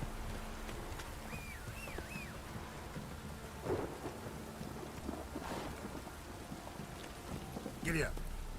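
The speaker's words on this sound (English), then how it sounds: "Olha a chuva, que lindo," Steady rain and a thunderstorm in The Witcher 3, with a dense downpour throughout and two louder rumbling thunder swells, one near the middle and one near the end, while a voice speaks briefly.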